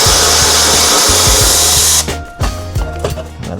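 A power tool spins off a 10mm heat shield bolt on a car exhaust in a loud, close, steady whir with rhythmic impact pulses, then stops, followed by a few clanks and rattles of the loosened part.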